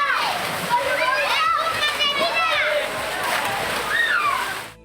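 Children jump into and bathe in spring-fed ponds opposite Gurdwara Panja Sahib in Hasan Abdal, with constant splashing and sloshing water mixed with lively kids' shouts and chatter and an adult voice talking over it.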